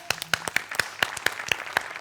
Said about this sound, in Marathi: एकदा आशाताईंसाठी जोरदार टाळ्या